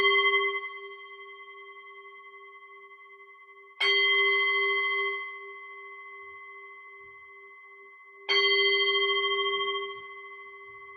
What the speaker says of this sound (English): So I will just begin the ring the bell, and we can start for metta meditation.